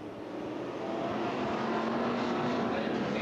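Sportsman race cars roar past at Rome Speedway in Georgia as the first lap begins, a dense, loud engine rumble rising over the few seconds, heard from the stands without clear speech.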